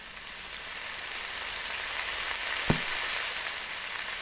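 Food sizzles in a pan in the video game Cooking Simulator, a steady close frying hiss with one sharp clack partway through and the sizzle brightening near the end, with no talking.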